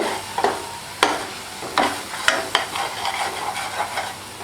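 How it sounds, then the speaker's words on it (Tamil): A pan of jaggery and roasted sesame kolukkattai filling is stirred with sharp scraping knocks and a steady hissing sizzle, close and moderately loud. "நல்லா கிளறிண்டே இருங்க"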